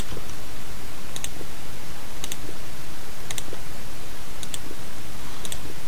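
A computer mouse clicking during Minecraft play, five crisp double clicks spaced about a second apart, sharp and close above a loud steady noise bed.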